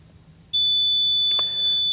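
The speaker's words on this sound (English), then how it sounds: "We can test the VSC HB warning buzzer." A steady high-pitched electronic warning tone from a Toyota's VSC warning buzzer, triggered by an OBD2 scanner, switches on abruptly and holds continuously, loud and close, with a brief clunk partway through.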